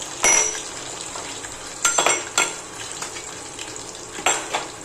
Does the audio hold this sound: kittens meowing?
no